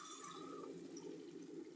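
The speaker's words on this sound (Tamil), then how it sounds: "போட்டு தண்ணி ஊற்றணும்" Water poured into ground masala paste with cashews in a pan while making black chickpea kurma, a steady close liquid gush and trickle filling the pan throughout.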